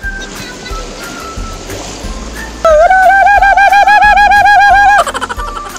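Steady rushing of waves and water at a beach, then a loud warbling, whistle-like tone rises over it for a couple of seconds.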